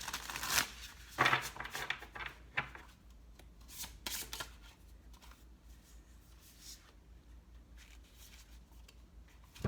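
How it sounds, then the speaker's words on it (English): Tarot cards shuffled by hand close up, a few brisk riffling bursts early on, then softer intermittent card handling that fades to quiet. "Alright, this will be our last shuffle."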